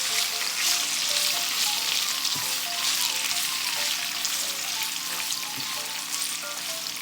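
Hotdogs frying together in a pan, giving a continuous close sizzle and bubbling crackle that holds steady throughout, with no one speaking.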